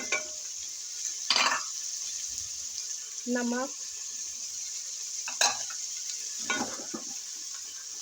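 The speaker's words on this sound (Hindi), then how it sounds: "इसको भूनेंगे हम अच्छी तरह से, ताकि हमारे मसालों का जो कच्चापन है वो ख़त्म हो जाए।" Spices, turmeric, red chili powder and tomato are stirred and fried in a pan for mixed vegetable sabzi, a constant soft sizzle broken by several scraping stirs, with someone speaking briefly between them.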